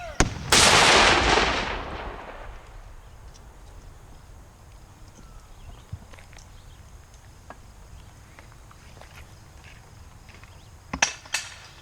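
A ceremonial rifle volley at an outdoor G.A.R. memorial service cracks out as one loud, sharp blast that echoes and fades over a couple of seconds, followed by quiet ambience and a few faint clicks of rifles being worked.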